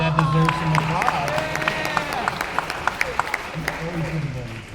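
Convention-hall audience applause during a voice-actor Q&A panel, a sustained crowd patter of clapping with a few sharp individual claps standing out and talk running over parts of it.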